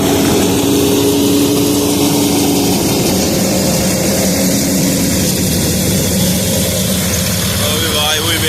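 A John Deere 5210 4x4 tractor drives a straw machine at full power, producing a loud, continuous droning roar with mechanical clatter throughout, with voices faintly audible under it.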